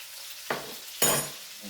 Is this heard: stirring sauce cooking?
yes